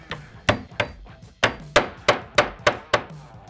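A table lock is tapped into place during an extension table build, with eight crisp, evenly spaced knocks close by that ring briefly after each strike.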